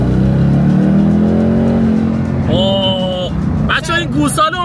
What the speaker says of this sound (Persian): ببینم این یه گاز بده ببینم چیکار می‌کنی گاز بده